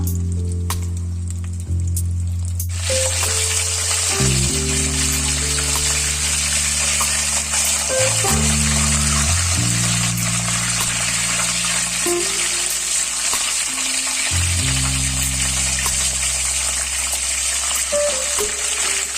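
Chicken nuggets frying in oil: after a quiet couple of seconds a dense, steady hiss of bubbling fat starts and holds, with low sustained musical tones running underneath.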